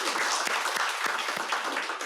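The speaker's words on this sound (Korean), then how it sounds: "박수하겠습니다" A church congregation at a Christmas service claps together in steady, even applause, a dense patter of many hands filling the short stretch without a pause.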